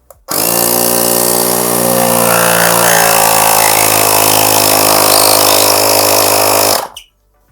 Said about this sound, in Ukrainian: компресор докачає і повинен автоматично зупинитися